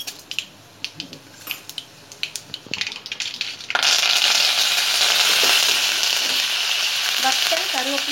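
Scattered light pops and crackles, then a loud, continuous sizzle erupts as mustard seeds, urad dal, fenugreek and cumin hit hot oil, hissing steadily close up.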